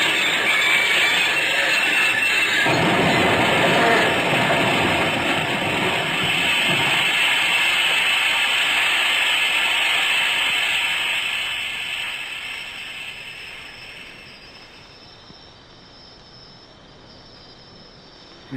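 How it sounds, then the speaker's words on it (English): A radio drama effect of runaway train machinery roaring toward a wreck: a loud rumbling, rattling mechanical din that grows dense and harsh, then slowly fades away into a faint hiss. "the terrible raging cry of a machine that has suddenly broken through"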